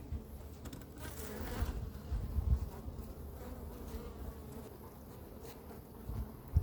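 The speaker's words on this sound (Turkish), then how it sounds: "Arı güzel, sıkışık çalışıyor." Honey bees buzzing at an opened beehive in August, after the honey harvest, during a varroa check: a dense, continuous hum of many bees close by, with no talking.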